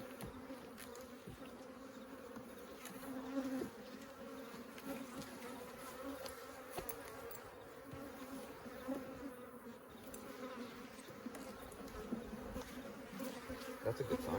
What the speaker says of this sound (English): There are bees there.